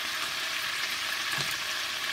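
Chicken feet frying in oil, a dense steady crackle and sizzle heard close up, with no voices.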